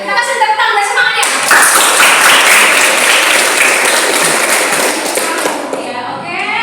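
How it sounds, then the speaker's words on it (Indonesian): A classroom of students claps for a group about to present, a loud burst of applause swelling after a brief moment of voices and then fading out near the end. "Kita kasih tepuk tangan dan semangatnya."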